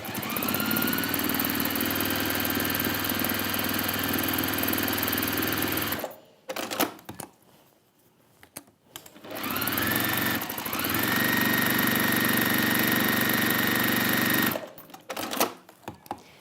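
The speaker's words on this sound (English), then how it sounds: "And then just stitch down both sides. So I'm going to do that now" A sewing machine stitches down both sides of a fabric handle in a workshop. It runs close and loud in two long, steady bursts with a short quiet pause between them, and no one talks.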